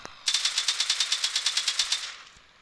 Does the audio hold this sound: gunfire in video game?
yes